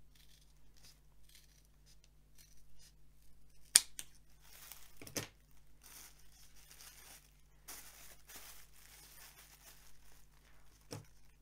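Scissors snip through the edges of two layers of glued-together leather, leaving a narrow margin. The cuts come as a few sharp, separate crunches spread over quiet, close by, with no one talking.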